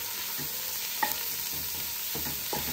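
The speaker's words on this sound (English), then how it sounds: "I'm just going to saute the carrots and the onions in the bacon fat." Carrots and onions sautéing in bacon fat in a soup pot, a soft continuous sizzle with a few light scraping stirs, close and steady with no talk.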